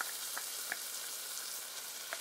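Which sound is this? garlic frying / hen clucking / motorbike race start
garlic frying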